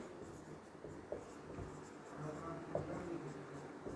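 Physics notes go onto a board in soft, scratchy strokes, faint and near, over a quiet room background.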